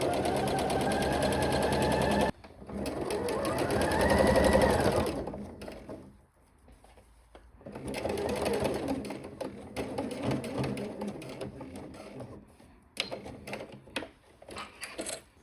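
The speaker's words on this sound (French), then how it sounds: "L'idéal ici, c'est d'utiliser une aiguille double pour cette surpiqûre." A sewing machine fitted with a twin needle topstitches a fringed skirt, running in a long, loud, even stretch, pausing briefly, then resuming in further runs broken by short stops.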